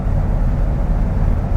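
A 1958 Cadillac Eldorado Seville cruising down the road, a low, steady rumble of engine and road noise held at an even level, smooth and unbroken for a short stretch with no voices.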